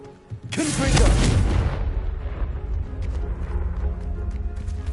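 A booming fiery blast from the Confringo spell in the Hogwarts Legacy video game bursts loud and near, then fades into a steady rumbling, crackling tail.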